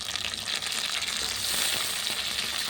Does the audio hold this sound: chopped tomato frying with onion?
yes